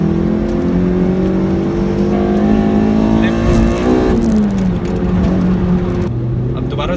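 A Toyota MR-S fitted with a swapped 2ZZ engine pulls hard in third gear, its loud, close engine note rising steadily in pitch before easing off near the end.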